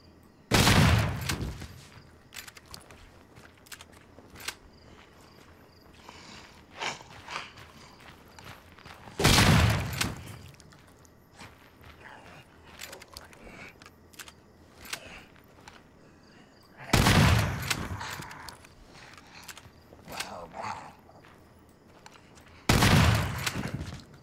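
Four loud, booming shotgun blasts from the Daymare 1998 video game land several seconds apart, with the shotgun reloaded each time and quieter clicks and footsteps in between.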